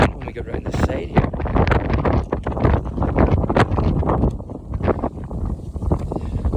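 Gusty wind buffets the microphone outdoors in a churchyard, a loud, continuous low rumble with irregular surges throughout, heavy and close, with no clear talk over it.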